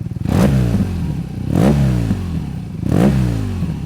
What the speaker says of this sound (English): I love the exhaust note on it.